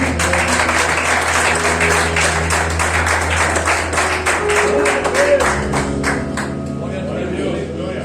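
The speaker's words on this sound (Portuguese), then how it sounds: "As palmas ao Senhor Jesus" A Portuguese-speaking church congregation clapping in praise, a loud rhythmic patter of many hands over a sustained musical backdrop, fading as the clapping thins near the end, with a voice speaking through it.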